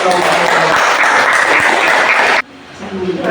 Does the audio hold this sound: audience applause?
yes